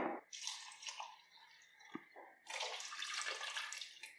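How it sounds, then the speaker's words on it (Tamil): Water is poured into a pot of rice for a vegetable rice dish: a splashing, gushing pour that pauses briefly, with a small clink, then resumes more strongly, close by and with no voices. "நான் வந்து மூணு கப்பு அரிசின்றதுனால நாலரை கப்பு தண்ணி சேர்க்க போகிறேன்"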